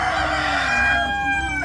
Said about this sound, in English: That's a good sized rooster, man.